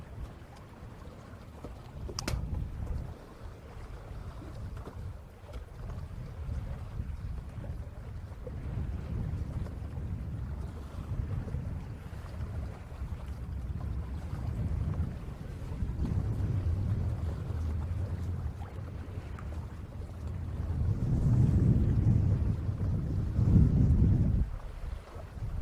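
Steady wind roars over a lake during a bass fishing tournament, a low rumbling gust noise that builds louder near the end, with boat and water sounds beneath and no talk.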